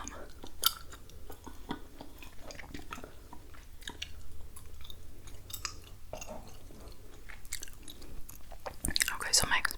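Gum is chewed close to the microphone in soft, wet, continuous smacking and clicking, with brief crinkly crunches near the end.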